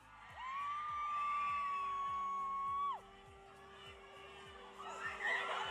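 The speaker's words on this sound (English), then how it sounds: "This was their entrance, just like this constant screaming." A concert crowd screams nonstop as the band makes its entrance, heard as a played-back recording: a sustained high-pitched wall of screaming over a pulsing low beat, swelling into louder cheering near the end.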